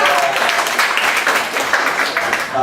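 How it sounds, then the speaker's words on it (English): An audience at a scouting program event breaks into steady applause, a dense wash of claps filling the space throughout with no single voice standing out. "How about a round of applause?"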